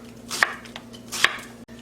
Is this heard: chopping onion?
yes